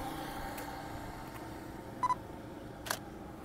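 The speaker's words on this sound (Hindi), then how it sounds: "अब फिर से दोस्तों फ़ोटो क्लिक करते हैं।" Nikon D7500 with an 85mm lens shooting outdoors, its shutter firing in a few quick soft clicks with a faint beep, all over a steady outdoor background hum.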